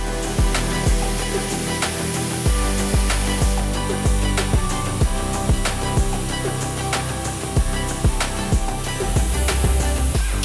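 A diamond core drill mounted on a cross-column bores a hole, a continuous loud grinding whine with sharp regular ticks and knocks repeating through the cutting.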